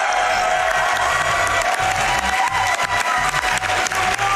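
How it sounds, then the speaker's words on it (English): A live audience at the SGDQ 2019 speedrunning event, before a TASBot Mario Kart Wii run, cheers and applauds with loud, dense whoops and clapping throughout. "Come on, give us some cheering."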